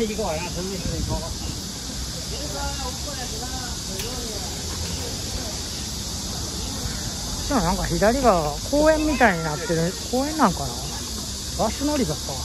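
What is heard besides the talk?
cicadas singing in summer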